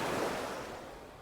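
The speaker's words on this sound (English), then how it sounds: "the waves are breaking right on the rock line there" Waves break on the rocky shoreline of Lake Michigan, a steady close wash of surf hiss that eases slightly over the short stretch with no voices.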